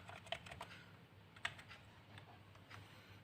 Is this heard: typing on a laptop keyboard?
yes